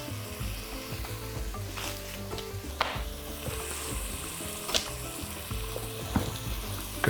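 Bacon strips sizzling in a pot, a steady low crackling fry with occasional louder pops and stirring clatter, no voices.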